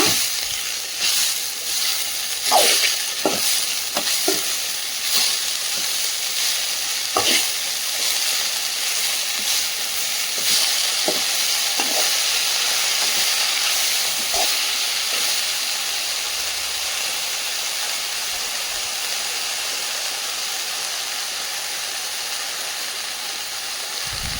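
Amaranth greens (araikeerai) sauté in a pan while being stirred for a Tamil poriyal, giving a continuous soft sizzle and hiss with scattered scraping clicks from the stirring, and no talking.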